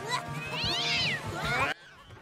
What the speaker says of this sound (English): Bad kitty!